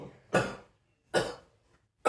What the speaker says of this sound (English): I'm gonna be coughing like no tomorrow